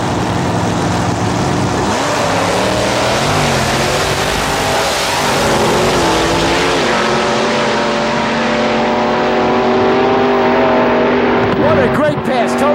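Drag racing cars with big block Chevrolet engines mounted in the back seat, running loud and close with a sustained, rising engine roar as they make a pass, an announcer talking over them.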